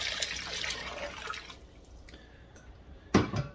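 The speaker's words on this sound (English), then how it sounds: "we're going to add 8 cups of water" Water poured into a pan of green chili on the stove, a close splashing rush that thins to faint trickles, then one sharp splash near the end.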